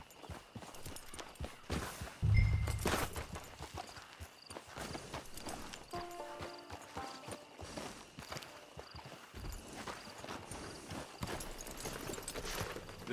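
A horse's hooves clip-clop in the Western video game Red Dead Online, a faint walking rhythm at a camp blended with quiet ambient game sound and music tones, and no speech over it.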